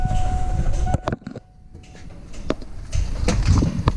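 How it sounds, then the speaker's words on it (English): Rapid relay clicking on a Ford 6.9 IDI diesel while it cranks in neutral: sharp, irregular clicks sit over a rough, steady mechanical drone, with a brief quieter dip in the middle. "hear that relay going to town there."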